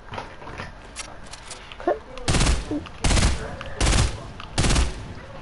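Four loud, broad bursts of gunfire in a video game, spaced about a second apart and rising sharply out of a quieter background with faint earlier noises.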